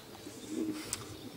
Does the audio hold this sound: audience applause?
no